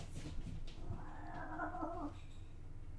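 Cats making strange noises in the background of a room, a drawn-out wavering yowl rising and falling for about a second amid faint low hum, fairly quiet and distant.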